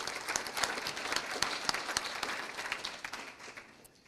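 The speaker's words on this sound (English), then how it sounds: "So go ahead and give her a round of applause." At a 2022 FFA banquet, a roomful of guests gives a round of applause, a steady mass of hand claps that holds for a few seconds before slowly thinning out, heard at some distance without speech.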